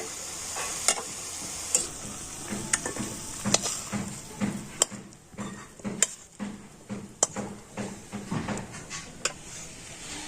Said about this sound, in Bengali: তো এটাকে এখন আমি নেড়ে চেড়ে একটা ফুট তৈরি করে নেব